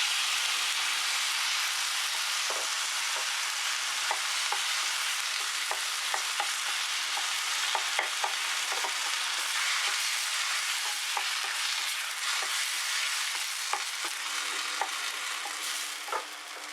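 Onion and tomato sauté for horsegram chutney in a pan, a steady soft sizzle with frequent light spatula taps and scrapes throughout, fairly quiet and close, with no talking.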